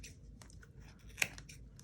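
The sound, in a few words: scissors cutting yarn pom-pom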